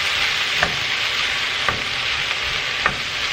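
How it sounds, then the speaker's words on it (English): Steady sizzling of seasonings frying with vegetables in a pan for beef stew, with a few soft stirring scrapes at intervals, close and even throughout. "mix those in really good with the vegetables and let them also get a little bit of frying to them"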